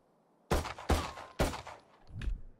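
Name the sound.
gunfire shooting through a wall in a video game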